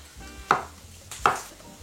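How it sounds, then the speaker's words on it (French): A knife chops mushroom pieces on a cutting board during home vegan cooking, with two sharp, close knocks about three-quarters of a second apart over a quiet kitchen background. "donc on coupe des morceaux de champignons"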